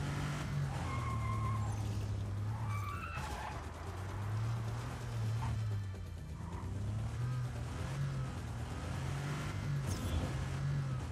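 A car in Just Cause 4 roars along with a steady engine drone that rises and falls through gear changes, with occasional tire scrubs and thumps, loud and continuous throughout.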